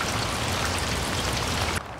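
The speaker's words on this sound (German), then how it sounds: "Es regnet." Steady rain falls during a bike tour in Veneto, a dense, even hiss of drops that runs for a couple of seconds and then cuts off abruptly near the end.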